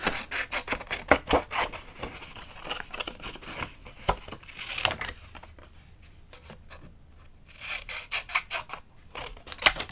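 Paper card for a theatre-style greeting card is worked with a hole punch, giving a run of close, dry rasping and snipping bursts with brief pauses and a quieter stretch midway.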